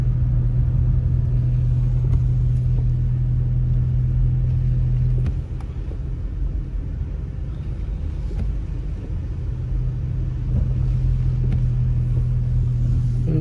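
A car drives off-road through snow on a mountain route from Upper Moonridge to Sugarloaf, its engine a steady low rumble and hum inside the cabin, easing slightly midway then returning, with no talking.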